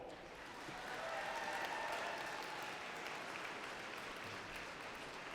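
A graduating class at a university fall convocation ceremony applauding families, friends, faculty and staff, a steady wash of many hands clapping in a large hall that swells after a second and holds, fairly distant, with no clear talk.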